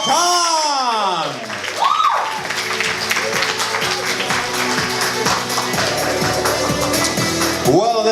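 A crowd at a talent contest semi-final gives a round of applause with a few whoops, filling most of the stretch, while music and a host's voice ring over it near the start and end.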